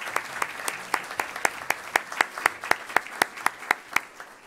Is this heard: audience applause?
yes